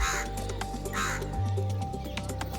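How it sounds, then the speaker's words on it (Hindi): A crow caws outside a village farmhouse, several harsh calls spaced across the moment at moderate distance, with low background hum and no talking. "कौवा भी आ गया।"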